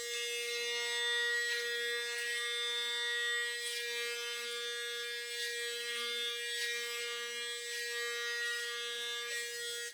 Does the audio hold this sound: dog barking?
no